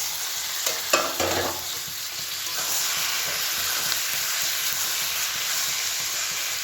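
Chopped tomatoes hit a pan of frying onions seasoned with salt and a little sugar, setting off a steady, close sizzle with stirring scrapes near the start and no talking.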